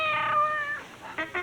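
A cat meows in a Yellow Pages commercial, a loud drawn-out meow with a rising, wavering tone, followed by two short, sharper mews near the end. No one speaks.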